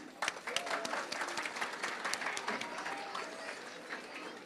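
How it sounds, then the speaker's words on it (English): Audience applause at a cultural program celebrating the birth of Lord Mahavir: a crowd claps steadily for several seconds, dense and lively at first and slowly thinning, heard from within the hall. "I think we should give them another round of applause."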